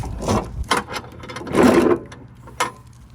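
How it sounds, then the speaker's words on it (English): A lawn mower deck is lifted and lowered in a few short scraping, clunking metal movements of uneven loudness over about three seconds, with no talk. "we can actually just lift the deck a little bit and take it off and bring it down"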